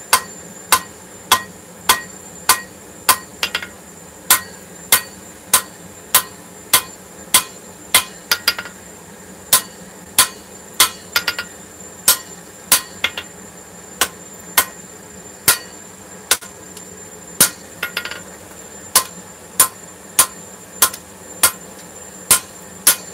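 Steady, ringing hammer blows on hot steel at an anvil while a machete handle is drawn out, about one strike every half second, loud and close with metallic clinks and no talking.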